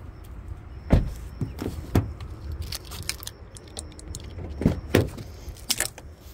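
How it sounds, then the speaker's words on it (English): Rear seat recline being adjusted in a 2024 Honda CR-V, a few sharp latch clunks and plastic clicks spread across several seconds inside the quiet cabin, with no one talking. "You can also adjust the recline level on these seats."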